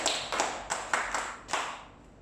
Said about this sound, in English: Clap for her for me.